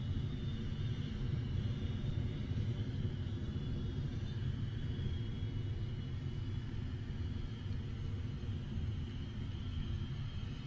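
Electron rocket's first-stage engine during ascent, just past max Q: a steady, dense low rumble that holds level throughout, with a faint hiss above and no voices.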